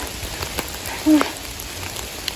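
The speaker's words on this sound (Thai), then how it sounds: "ฝนมันตกค่ะเพื่อนคะ" Rain falls steadily outdoors during a rainy mushroom-foraging outing in a Danish forest, a soft continuous patter with scattered sharper drop hits, fairly close and with no talking.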